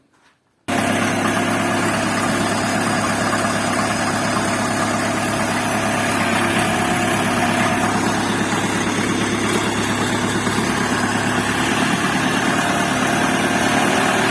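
After a brief quiet moment, a small Kentavr 404S tractor engine starts idling with a steady, loud, rattling chug that continues unchanged to the end.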